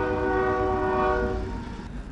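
A train rolls past close by, its horn sounding a long sustained chord over the rumble of railcars, fading slightly toward the end.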